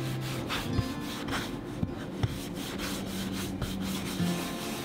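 A brush spreads DIY clear wax over a wooden furniture piece, making soft, repeated rubbing strokes in a steady rhythm with a few light taps, close and fairly quiet.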